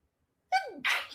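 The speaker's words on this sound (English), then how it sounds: "So you might get a couple of more sneezes from me." One loud, close sneeze brought on by allergies breaks a silence, a short rising intake followed by a sharp burst of air.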